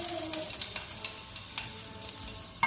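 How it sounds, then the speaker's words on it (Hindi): Chicken pieces lightly frying in a pan give a continuous crackling sizzle, with scattered pops and a few sharper clicks near the end, close and moderately loud. "चिकन बिल्कुल हल्का हल्का सा फ्राई हो चुका है"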